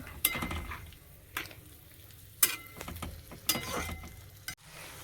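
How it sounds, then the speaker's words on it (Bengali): A bowl is rinsed and water poured in, with several sharp clinks of metal against dishware spaced over a few seconds above a soft background hiss, close by and with no speech. "একটু এই বাটিটা ধুয়ে জল দিয়ে দিচ্ছি।"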